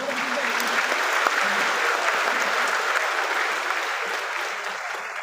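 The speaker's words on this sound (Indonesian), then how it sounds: "Mari kita berikan tepuk tangan yang meriah untuk keluarga kita" Loud, sustained applause from a large crowd at the UGM postgraduate graduation ceremony, honouring the graduates' families, dense clapping continuing throughout and tapering slightly at the end.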